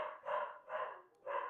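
A dog barks three times in a steady rhythm at close range, each bark a short harsh burst with brief pauses between.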